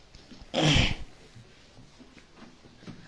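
A man gives one sharp, loud sneeze close by during a church prayer session, followed by quiet room noise and soft breathing.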